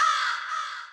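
A performer on a comedy show imitates a crow's caw with his voice, delivering one harsh, nasal, drawn-out call that fades at the end, heard clearly and alone.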